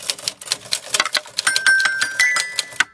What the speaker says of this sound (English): It's 100 years old, this typewriter.